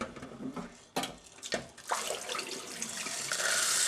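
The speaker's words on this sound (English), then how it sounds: "pouring them back into the Pyrex dish again and giving them a wash around" Lead pellets for a .22 air rifle swished and rinsed around in water inside a Pyrex glass dish, a close sloshing, rattling wash with sharp splashes and a steady rising rush of water toward the end.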